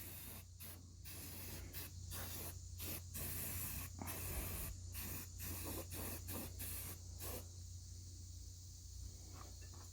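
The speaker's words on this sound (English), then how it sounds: "So when I'm spraying up around the top here, I'm just going to take my time" A steady hiss of etch primer spray paint on an engine bursts on and off in short pulses over a low constant hum, close and fairly quiet.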